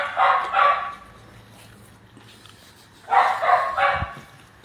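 Dogs at a search-and-rescue unit bark in two short clusters, each a quick pair of sharp, fairly close barks separated by a quiet pause.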